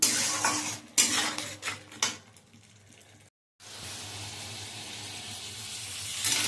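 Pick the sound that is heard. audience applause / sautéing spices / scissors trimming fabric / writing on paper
sautéing spices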